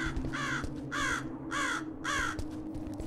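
A crow in a video game caws four times in an evenly spaced series, each call loud, harsh and close, over a low steady ambient hum.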